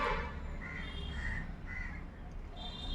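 Crows caw repeatedly outdoors, several harsh calls spaced across a few seconds over a steady low background rumble.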